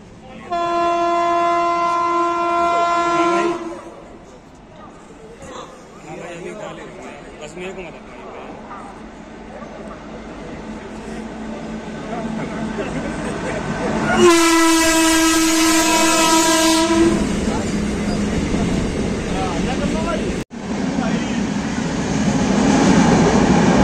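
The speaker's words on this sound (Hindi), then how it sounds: "ये हमारी ट्रेन चल दी है, काफी लेट आई है ये ट्रेन।" Jhelum Express passenger train pulling out of a station, with long loud horn blasts at the start and again midway over steady rolling rail rumble and clatter; people talk nearby throughout.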